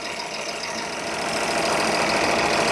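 A car engine runs steadily at idle, a close, constant mechanical hum with faint knocking texture, gradually getting slightly louder.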